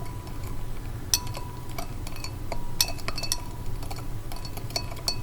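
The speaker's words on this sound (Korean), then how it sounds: "자, 먼저 차가운 물에 있는 설탕을 좀 저어 볼게요." A glass rod stirs sugar in cold water inside a glass, giving scattered sharp clinks and ticks against the glass over a low steady background, with no talking.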